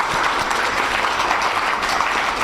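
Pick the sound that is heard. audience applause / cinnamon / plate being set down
audience applause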